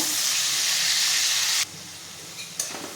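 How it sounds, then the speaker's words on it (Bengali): Potatoes sizzle loudly and steadily in oil for about a second and a half, then quiet abruptly, followed by a faint clink and soft stirring. "আলুগুলো ভেজে নেব।"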